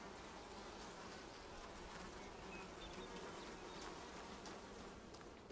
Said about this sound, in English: Sounds like bees, but I can't actually see them.